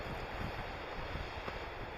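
Wind blowing outdoors in Donegal, Ireland, a steady blustery rush with microphone buffeting, loud and continuous with no one talking.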